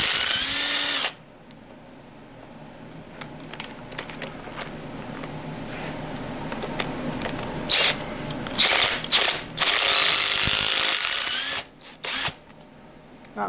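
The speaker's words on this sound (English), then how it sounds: "you guys this DC 821 half-inch heavy-duty 18-volt impact driver" DeWalt DC821 half-inch 18-volt cordless impact driver hammering on stubborn bolts of a 1978 Chevy Camaro 350 engine, with short loud rattling bursts and pauses, metallic clinks and handling noise between runs.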